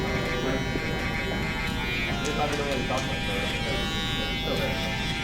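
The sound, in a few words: electric shaver flipped over, tapping at a line in a fade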